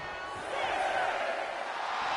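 Crowd noise from a WWE 2K wrestling video game match, a steady broad roar of spectators that swells slightly after the first half second and holds at a constant level throughout, with no talk over it.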